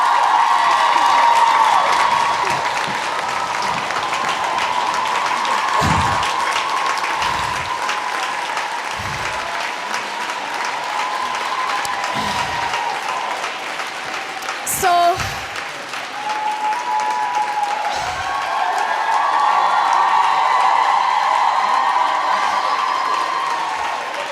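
An audience claps steadily throughout, a dense sustained applause that swells near the start and again toward the end, with scattered louder claps and a faint cheer partway through.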